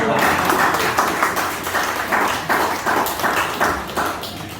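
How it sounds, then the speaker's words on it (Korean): Rhythmic hand clapping from a church congregation at a Sunday service, steady and fairly loud, with a pulsing beat of claps throughout. "박수를 치려면 제대로 치십시오"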